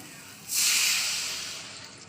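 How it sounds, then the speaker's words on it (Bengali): A glass of water is poured into a hot pan of okra, potato and prawn curry, a sudden loud hissing burst that slowly fades. "এক গ্লাস পরিমাণ জল দিলাম"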